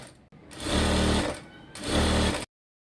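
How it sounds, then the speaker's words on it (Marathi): A sewing machine stitching along a folded fabric belt, running in two sustained bursts of steady, fast mechanical whirring with a short pause between, close up and loud, then stopping abruptly. "यावरती पूर्ण शिलाई करून घेते"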